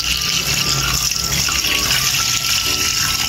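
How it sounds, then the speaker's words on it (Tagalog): Water gushes steadily into a cooking pot that already holds bay leaves, whole peppercorns, ground pepper and salt for Filipino balbacua, a loud continuous close pour with no speech over it. "Lagyan natin ng tubig."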